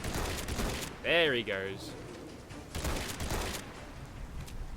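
Heavy shots from a GM6 Lynx anti-materiel rifle in the video game Fallout 4 ring out as loud, sharp blasts in a busy gunfight, with someone speaking briefly over the firing.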